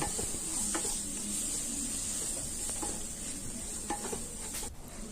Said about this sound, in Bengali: এই মশলাগুলো ভালো করে নাড়াচাড়া করে ভেজে নেব।